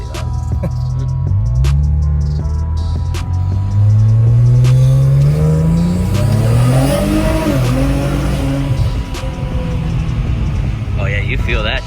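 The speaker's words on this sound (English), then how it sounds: "My exhaust is too loud." A VR30 engine fitted with a custom blow-off valve and a loud exhaust revs hard several times, rising and falling with a squealing edge. It sounds close and loud, and voices talk over parts of it.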